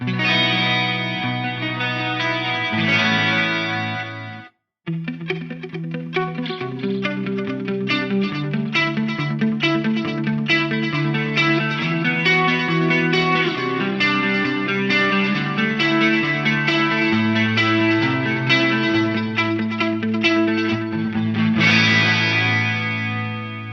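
Electric guitar played through an Eventide H9 pedal with modulation blended in, a chorused, distorted 80s-style tone with sustained chords and melodic notes, a short break near the start, then continuous playing.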